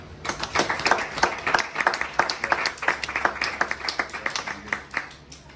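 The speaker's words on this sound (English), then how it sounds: "a round of applause for them" A banquet room full of people applauding, steady dense clapping that carries on for several seconds before tapering off.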